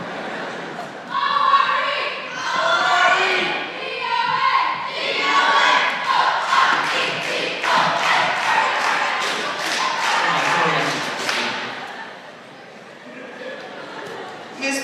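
Cheerleaders chant a rhythmic group cheer in a high school junior class skit, voices loud and close in repeated shouted phrases with crowd noise and thumps, fading near the end.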